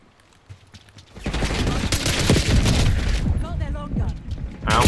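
Rapid gunfire from Call of Duty: Black Ops 6, loud and sustained bursts starting after a quiet first second, with gameplay effects and occasional talk mixed in.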